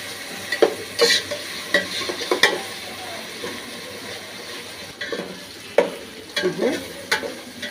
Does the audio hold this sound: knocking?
no